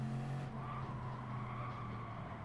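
Tyres squeal as a car understeers through a corner in Gran Turismo 7. A loud, sustained screech rides over the engine drone for the whole moment.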